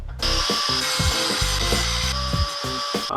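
Grinder working down rough welds on a homemade steel license plate mount for a CBR 600 motorcycle: a loud, continuous, close-up grind with a high whine, its pitch shifting slightly as the disc presses and lifts.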